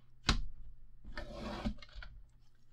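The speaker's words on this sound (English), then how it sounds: "This paper trimmer is not strong enough to cut all the way through this medium weight chipboard." A paper trimmer blade runs back and forth across medium weight chipboard to score it, giving a short sharp scrape followed by a longer close rasping slide and a fainter pass, quiet overall.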